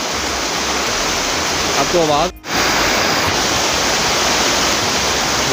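Fast floodwater roars in a constant, loud rush over a road during heavy rain in a Pakistani village, with someone speaking briefly over it.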